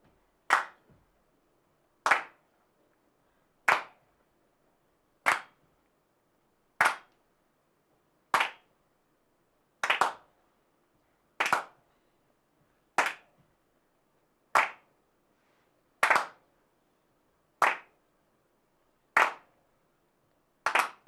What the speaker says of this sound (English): We're gonna clap 1 and 2 and 3 and.